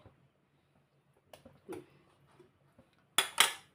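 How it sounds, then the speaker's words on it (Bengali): A utensil stirs chicken soup in a metal pan after soy sauce goes in, giving a few sparse, faint scrapes and light clinks, then two sharper metallic knocks at the end. "সোয়া সস দিয়ে একটু নেড়ে দিন"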